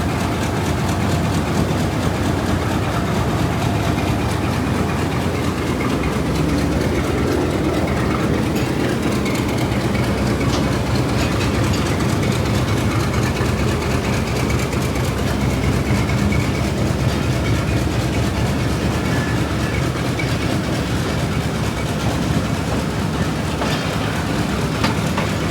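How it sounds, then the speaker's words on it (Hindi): The Mianwali Express rolls away from Malakwal Junction in a steady, loud rumble of wheels and carriages, with continuous low engine drone and rail clatter throughout. "रवाना हो चुकी है 148 ऑन मियां वाली एक्सप्रेस मलकवाल जंक्शन से"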